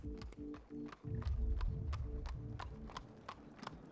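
Horse hooves clip-clop in a steady, unhurried rhythm beneath a slow-moving horse-drawn carriage, the sharp knocks close and distinct over a low rumble of wheels.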